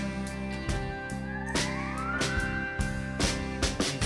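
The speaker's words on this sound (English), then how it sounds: "a lap steel with a volume pedal and a ton of reverb" Lap steel guitar swelled with a volume pedal and drenched in heavy reverb, long gliding notes sliding upward over a steady sustained backing, with a few sharp percussive accents throughout.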